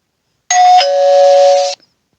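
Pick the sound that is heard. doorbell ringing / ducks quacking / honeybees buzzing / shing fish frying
doorbell ringing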